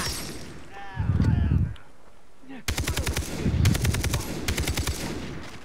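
Automatic and rapid gunfire from the shooter game Far Cry 3 in co-op play, loud bursts of repeated shots after a stretch of speech, with a voice talking in the first part.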